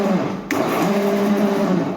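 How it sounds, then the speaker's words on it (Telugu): A kitchen mixie grinder runs steadily, coarsely grinding spices for chicken donne biryani: a loud, continuous motor whir with a brief jolt of strain near the start, close by and alone. "మరి మెత్త కాకుండా కచ్చా పచ్చగా మిక్సీ పట్టుకోండి, గ్రైండ్ చేసుకోండి"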